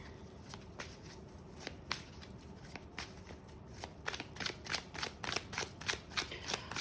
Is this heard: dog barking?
no